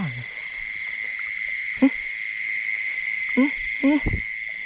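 Frogs croak at night during frog fishing with baited hooks, several short, separate low croaks rising over a steady high chorus of insects, fairly close.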